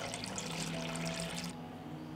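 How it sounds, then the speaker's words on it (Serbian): Cold water pours into a cooking pot lined with a cloth and packed with jars, making a steady, fairly quiet rushing stream for about a second and a half before it stops, leaving a faint low hum. "Sipat ću hladnu vodu u šerpu do visine poklopca."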